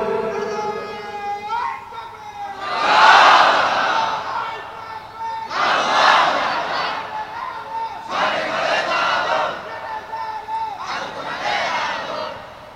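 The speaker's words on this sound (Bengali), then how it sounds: "এবার একজন যুবক লোক তাকবীর দেন তো দেখি।" A large crowd at an Islamic religious gathering chants the takbir, Allahu Akbar, in four loud collective surges separated by short pauses, each call swelling and fading as many voices answer together.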